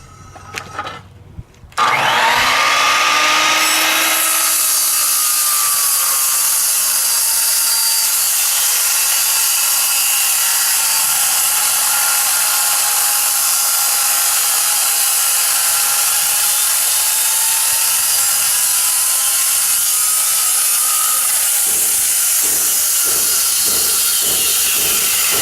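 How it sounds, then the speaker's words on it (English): A 10 1/4 inch circular skill saw cuts into a 12 by 12 wooden beam, its loud sustained whine running steadily for about twenty seconds after a brief start, then slowing and sputtering at the end. "he's going to trim the base off of this 12 by 12 beam because there's 2 carpenters associated with this particular operation, using a 10 1/4 inch skill saw"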